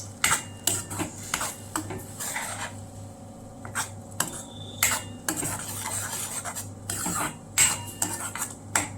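Tomato puree is roasted in a pan while being stirred, with sharp clinks and scrapes of a metal spoon against the pan in an irregular rhythm. The faint sizzle underneath sits close, and no one speaks.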